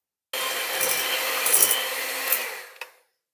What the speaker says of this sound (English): And then we're going to mix that together with a hand mixer.